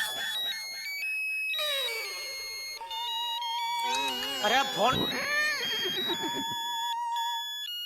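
A phone ringtone plays as a repeating electronic melody of bright tones, running at steady volume under a voice that speaks in bursts across the middle of the clip.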